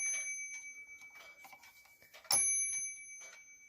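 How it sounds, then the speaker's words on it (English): An 8-day Hermle kitchen clock with a passing strike sounds a single bell strike for the hour, one sharp ringing tone over steady ticking, heard close in a quiet room. "this clock has a passing strike mechanism,"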